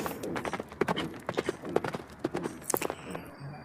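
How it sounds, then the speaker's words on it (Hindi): Horse hooves clip-clop in a quick, uneven run of close knocks, steady and moderately loud against a faint background. "फिर से घोड़े की आवाज़"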